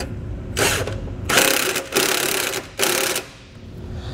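Nuts on U-bolts securing a rust-resistant 4-leaf double eye leaf spring on a trailer are snugged up with a ratchet, making three or four close, bursts of rapid mechanical clicking separated by short pauses.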